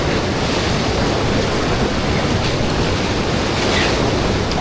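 Ocean surf breaks against rocks in a steady, loud broadband roar with continuous wash and churn, close to the microphone and with gusty wind noise mixed in, no voices.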